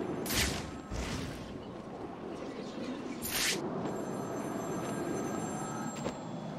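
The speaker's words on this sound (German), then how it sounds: "Geh an das Telefon und zwar schnell" Telephone bell ringing in the Batman: Arkham City video game, a few loud bursts of ringing over a steady bed of game ambience and music.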